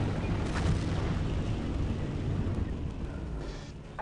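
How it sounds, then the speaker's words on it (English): Artillery shells pounding a bunker in Battlefield 1942, a continuous deep, rumbling barrage of booms that holds steady and loud before easing slightly toward the end. "I'm really on the wrong side of the bunker to be attacking it with the artillery"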